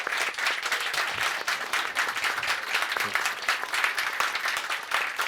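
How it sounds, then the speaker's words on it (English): An audience at a bar symposium in Cologne breaks into applause, a dense crackle of many hands clapping at moderate volume that carries on steadily from start to finish. "Big round of applause, please."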